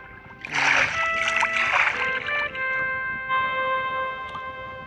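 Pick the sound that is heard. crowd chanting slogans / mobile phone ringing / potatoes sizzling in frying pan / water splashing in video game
water splashing in video game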